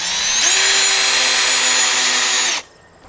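A power drill drives a 1.5 inch screw into a wooden sill plate, one loud steady whine that climbs in pitch as it spins up, holds for about two seconds, then stops abruptly.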